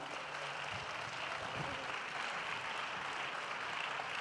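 Faint, steady applause from an audience at the close of a debate on the Olympic Games in popular culture, an even wash of clapping heard from a distance.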